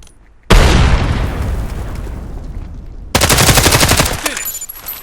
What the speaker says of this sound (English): Enemy frag.